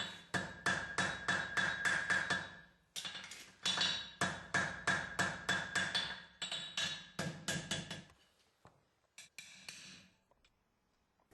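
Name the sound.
farrier hammering a horseshoe on an anvil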